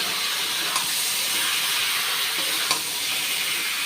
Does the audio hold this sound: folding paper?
no